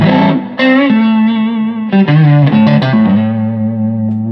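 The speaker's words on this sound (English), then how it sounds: "This is just guitar straight in." An electric guitar rings out in sustained notes and chords, played clean with a touch of reverb, loud and close.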